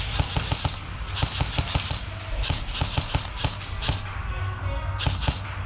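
Airsoft gunfire during a city-style milsim game, rapid sharp pops in quick bursts over a steady background hiss, fairly close.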